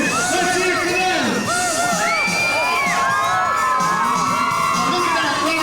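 A large crowd cheers and screams loudly for EMS, police and fire department crews, with whoops, children shouting and overlapping voices sustained throughout.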